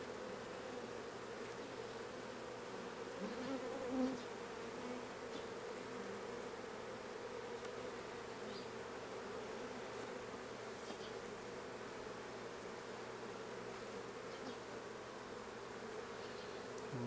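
A caught swarm of honey bees hums in a dense, steady drone at low volume, continuous throughout with individual buzzes passing close now and then, no talking.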